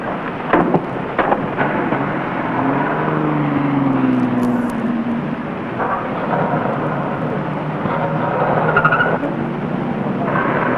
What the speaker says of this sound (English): Back it up, Andy, and put it in stall 7.